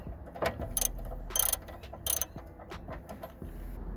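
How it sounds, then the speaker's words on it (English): Ratchet undoing a 19mm sump plug on a Holden V6 Commodore, a few close, crisp clicking bursts in an irregular rhythm over low background rumble. "The sump plug is a 19mm in this case."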